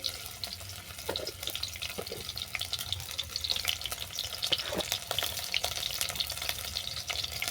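Shrimp sizzles in a pan with salt and turmeric, a soft steady frying hiss with faint scraping and stirring, heard quietly and without any voice.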